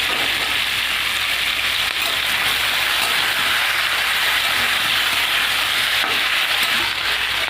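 Potato and green banana frying in a pan, a loud, continuous close hiss of sizzling oil that stays even throughout with no voices.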